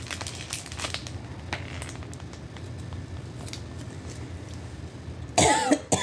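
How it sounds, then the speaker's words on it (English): A person coughs several times while cutting fabric swatches indoors, with a sharp cluster of coughs near the end over faint crinkling and snipping sounds. "I'm starting to cough now."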